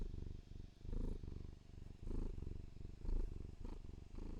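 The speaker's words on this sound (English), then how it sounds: "Oh, listen to that purr." A contented cat purrs steadily and close up, a continuous low rumble that pulses with each breath, heard alone without talk.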